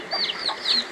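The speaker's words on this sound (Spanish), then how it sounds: "esa gallina grande." A large hen clucks at a rural home in Nueva Choraxaj, Joyabaj, with a few short, high, squawking calls close by over one second and no talking.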